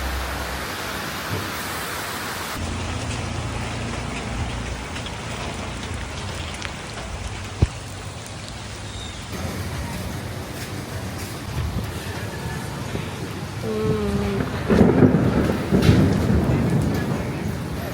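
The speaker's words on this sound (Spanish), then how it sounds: "Está cayendo una tormenta totalmente increíble." Heavy tropical rain pours down in Sri Lanka during a strong storm, a dense steady roar of drops hitting surfaces, with a brief sharp crack partway through and rain swelling louder toward the end.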